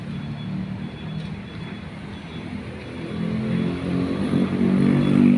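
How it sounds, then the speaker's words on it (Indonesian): A motorcycle passes along a street, its engine drone building steadily louder as it approaches near the end, heard alone without talk. "Motor lewat."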